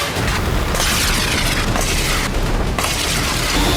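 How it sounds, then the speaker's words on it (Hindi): Missiles fire and explode at sea in a military strike, forming a dense, continuous roar of booms and blasts with sharp bursts layered throughout, loud and unbroken. "कुछ यूं मिसाइलें दागी जाएंगी"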